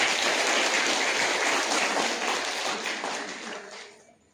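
Dense, loud applause from a large crowd at a military veterans' organization foundation day ceremony, a continuous wash of clapping that holds steady and then fades out toward the end.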